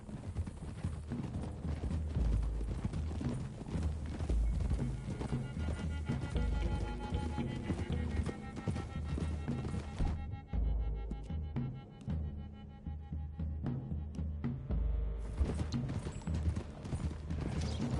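Horses gallop in Red Dead Redemption 2, a steady rush of clip-clopping hooves running under continuous game music, with a brief pause in the middle before the pounding resumes.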